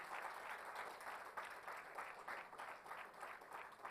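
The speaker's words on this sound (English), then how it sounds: "Another big round of applause for Balaji Ravindran" An audience at a DevFest 2022 tech conference talk in Bangalore claps steadily, a warm, sustained round of applause from a moderately sized crowd heard at a slight distance.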